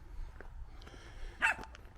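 A dog barks once, faint and somewhat distant, outdoors along a greenway path, a single short yelp over quiet background.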